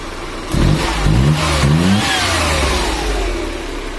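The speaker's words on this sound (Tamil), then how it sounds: "ரேஸ் எப்படி இருக்குன்னு சொல்லி பார்க்கலாம். Engine race" A Maruti 800 engine running on LPG revs up in a few quick rising bursts, then the pitch falls back as it settles toward idle.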